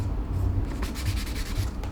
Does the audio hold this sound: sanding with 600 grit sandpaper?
yes